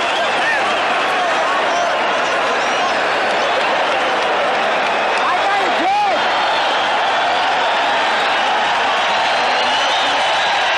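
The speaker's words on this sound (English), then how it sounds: "Now the crowd is alive." Boxing arena crowd at a 1976 heavyweight title fight between George Foreman and Joe Frazier roars and applauds after the first round, a loud, sustained wall of cheering with scattered whoops throughout.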